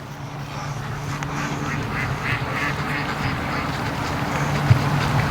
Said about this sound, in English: Oh, look at the ducks. They're so freaked out tonight.